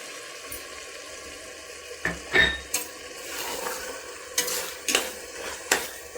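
Half a kilo of chicken sautéing in a pan for biryani, with a steady soft sizzle and intermittent scraping and clinks of a utensil stirring the pieces, close and fairly quiet, no talk.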